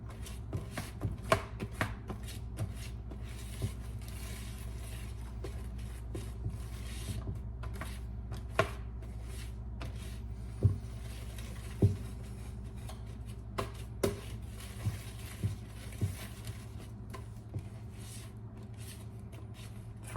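A whisk beats in a bowl while making croquembouche, a steady faint scraping under a low hum, punctuated by sharper irregular taps against the bowl's side.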